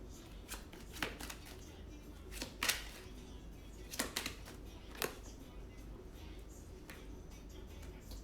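A deck of tarot cards is shuffled and handled, giving soft scattered riffles and sharp card snaps at irregular moments, close but fairly quiet against a faint background.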